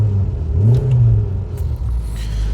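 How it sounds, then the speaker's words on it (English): Rover Tomcat coupe engine fires up and revs with a sporty, purposeful exhaust note, a loud close rumble that swells and settles over a few seconds. "Fire the engine up. And sounds quite sporty."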